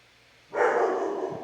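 A dog lets out a loud, sustained bark that starts abruptly after a moment of quiet and holds for about a second, close and clear in an indoor space during home trim installation.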